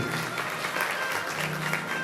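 Audience at a Shrimad Bhagwat Katha gathering clapping steadily, a dense continuous patter of many hands with faint voices mixed in, lasting about two seconds.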